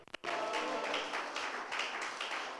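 A church congregation applauding during a pastor's sermon, a few sharp claps and then sustained dense clapping from a crowd, steady and moderately loud before slowly thinning.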